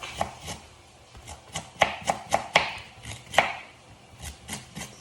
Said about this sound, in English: So you can slice or chop your onion.